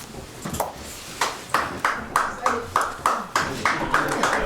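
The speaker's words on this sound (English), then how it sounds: "Is that clapping because you're happy he's getting down, or is that clapping thank you for your service?" Applause ripples through a town selectboard meeting in a room, a run of sharp hand claps in steady bursts, fairly close and moderately loud, with no talking over it.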